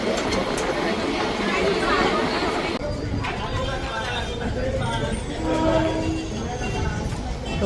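Rumbling Karjat fast local train noise with a crowd of voices chattering around it, a busy, fairly loud carriage or platform atmosphere.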